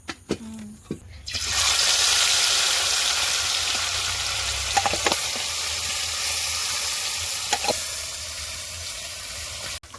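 Fish frying in a kadai sends up a loud, steady sizzling hiss that starts after a few quiet clinks and holds throughout, with occasional sharp spatters close by.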